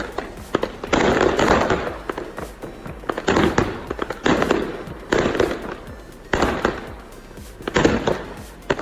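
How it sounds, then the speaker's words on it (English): Fireworks fired from a rooftop toward an excavator on a demolition site, a rapid run of loud crackling bursts and pops in clusters with brief gaps, fairly close and harsh. "He climbed onto the roof and started firing fireworks at the excavator."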